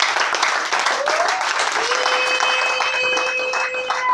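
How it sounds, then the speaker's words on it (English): A church congregation claps for Jesus Christ, a loud, dense burst of hand clapping with voices calling out and a sustained tone from a keyboard or organ ringing beneath. "Shall we clap for my Father, Jesus Christ?"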